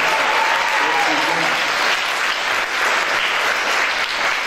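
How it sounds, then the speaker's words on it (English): An indoor audience at a school mariachi program event gives a sustained round of applause for the school board, dense and loud throughout with faint crowd murmur underneath. "Let's give a round of applause to the school board who made this investment."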